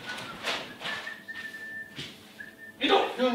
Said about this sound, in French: Il est aussi très mal vu de siffler sur scène et dans les coulisses